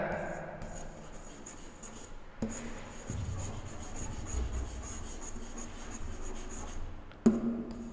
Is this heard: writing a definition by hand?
yes